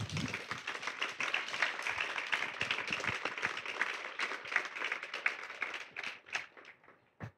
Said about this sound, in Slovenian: Lahko še en aplavz.